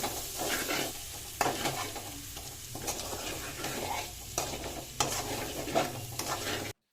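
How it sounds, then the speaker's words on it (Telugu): Boiled egg pieces frying with spices in a pan, giving a steady close sizzle with repeated scraping stirs and occasional sharp utensil knocks against the pan, no voices. "మనం కట్ చేసి పెట్టుకున్న ఎగ్ పీస్లను అందులో వేసి మంచిగా కలుపుకుని మూత పెట్టి ఒక 2 నిమిషాలు వేయించుకోవాలి."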